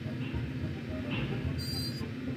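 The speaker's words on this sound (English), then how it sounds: "Watch the steam locomotive." Steam locomotive in the 3-D Ultra Lionel Train Town game, a steady low rumbling chug of rolling train wagons with a brief high whistle-like tone near the end, fairly quiet.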